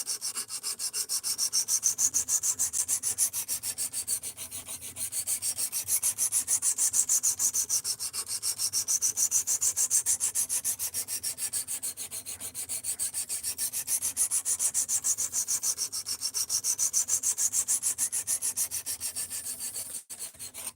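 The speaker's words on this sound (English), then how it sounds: "we're sharpening already" A knife blade scrapes back and forth across a sharpening stone in steady, rhythmic strokes, close and continuous with one sharp click near the end, no voices.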